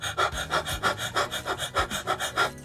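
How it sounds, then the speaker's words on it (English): Rapid panting as a breathing exercise, about a dozen quick rhythmic inhale-exhale puffs at a steady pace, close and clear with no talking. "We're inhaling and exhaling rapidly,"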